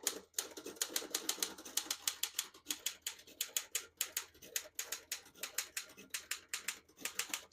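A 1940 Royal KMM desktop typewriter typing a line in red ink: a long, fast run of sharp keystrokes heard up close, with brief pauses between bursts and no voices.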